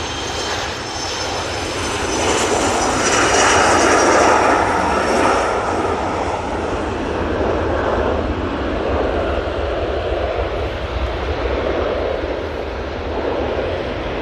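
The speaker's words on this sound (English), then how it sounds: "Logan Air, ERJ145, now on the roll." A Loganair Embraer ERJ145 regional jet rolls for takeoff at Manchester Airport, its engine roar loud and close, swelling to a peak within the first few seconds and then holding a strong, slowly easing rush as it accelerates away.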